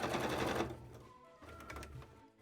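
A sewing machine stitches soft, squishy fabric covers for wings with a rapid mechanical whir that runs loud for a moment, then slows into lighter, intermittent stitching and clicks nearby.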